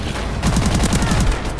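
Rapid automatic gunfire in Call of Duty Advanced Warfare multiplayer on PS4, a loud, dense burst of quick shots rattling continuously through the short moment.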